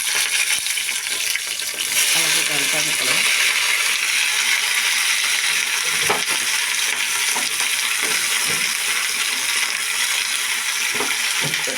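Green chillies frying in two spoons of oil in a pan give a steady, loud, close sizzle, broken by occasional clinks and scrapes of a stirring spoon.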